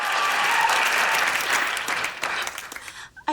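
Studio audience applause at the finale taping of the Friends sitcom episode 'The Last One', a dense, loud clapping wash that holds steady, then thins and tapers out near the end.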